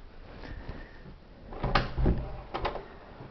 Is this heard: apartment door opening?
yes